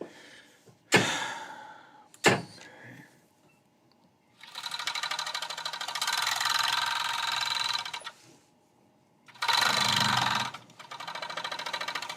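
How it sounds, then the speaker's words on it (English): A serger sewing machine stitches along a fabric edge for a pocket top in long, steady mechanical runs. Two sharp clicks come first, then a pause before a second and third burst of loud, even stitching. "Serge this edge here, and we're going to fold it back and stitch it on itself."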